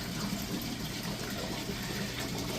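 A hang-on-back aquarium overflow, driven by a strong pump, carries water in a continuous, low rushing flow with a faint gurgle, steady and fairly quiet.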